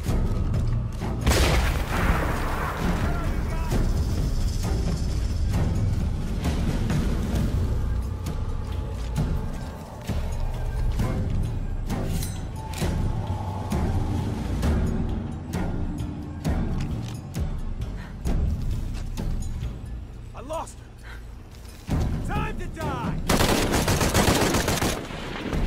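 Sustained heavy gunfire and booming explosions in the video game Tomb Raider, loud and dense throughout with repeated sharp shots and thuds, a brief lull near the end before the barrage swells again.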